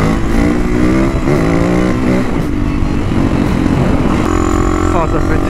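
A Husaberg 450 FE supermotard motorcycle being ridden, its single-cylinder engine droning loud and close with rising and falling revs throughout, while a voice speaks over it.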